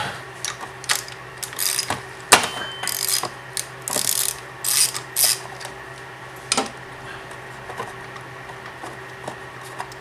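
A ratchet fitted with an 18mm socket works spark plugs out of a Gold Wing motorcycle engine, giving close, irregular bursts of rapid clicking with sharp metallic taps in between, then falling quiet.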